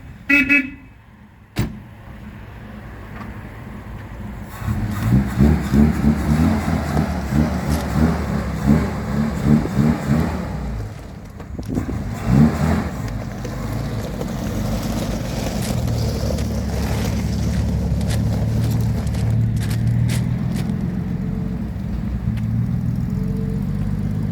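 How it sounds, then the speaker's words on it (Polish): A vintage Chrysler that once ran the Peking to Paris rally drives off and accelerates, its engine rumbling steadily and loud for most of the stretch, with a couple of brief horn-like toots and faint speech early on. "I popatrzymy na to auto w ruchu."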